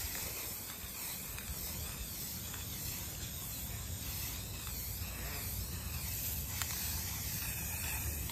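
A spray can hisses continuously while painting a wire basket, a steady broad airy spray close by, unbroken for several seconds.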